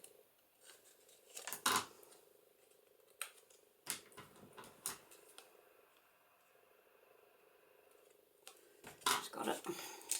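Scissors snip off a small piece during a papercraft project with rounded corners and inked edges: a few quiet, sharp cuts spaced several seconds apart, close by in a calm room.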